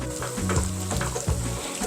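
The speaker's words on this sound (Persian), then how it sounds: "حالا یه قاشق رب گوجه فرنگی اضافه میکنم" Steady sizzling and frying of tomato paste in a pan, with occasional stirring scrapes, close and continuous throughout.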